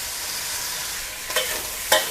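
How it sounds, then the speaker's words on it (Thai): Squid in a mixed sauce stir-fried in a wok gives a steady close sizzle, with two sharp scrapes of the spatula near the end. "เสร็จแล้วก็ใส่น้ำซอสนะคะ ที่เราผสมไว้ลงไป"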